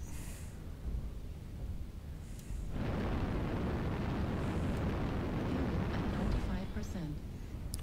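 Incoming missiles burst in the video game MechWarrior Online: a quieter rumbling stretch gives way to a sudden loud, sustained blast of broadband explosions that roar on for several seconds.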